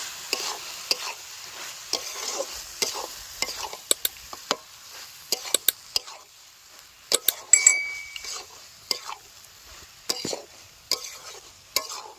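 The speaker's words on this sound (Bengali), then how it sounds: "এই সব মশলাগুলো একসঙ্গে দিয়ে ভালো মতন করে নাড়িয়ে দেবো।" Spiced chicken filling with coriander, cumin, pepper, turmeric and salt being stirred and fried in a pan in a village kitchen, a soft background sizzle under frequent sharp metallic clinks and scrapes of a spoon against the pan.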